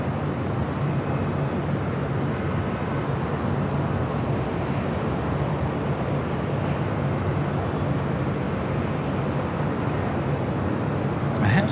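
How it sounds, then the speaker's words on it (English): A Copa Airlines Boeing 737 MAX 9, arriving at LAX from Panama City, makes a steady, loud broadband jet roar that holds evenly for the whole stretch with no pauses. "Next arrival here on the south side is Copa Airlines flight 360, coming in from Panama City."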